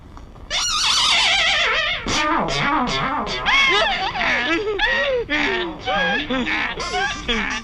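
A loud donkey braying effect dominates a comedy film scene, with harsh, distorted, repeated heehaw cries in rapid rising and falling bursts that carry on for several seconds.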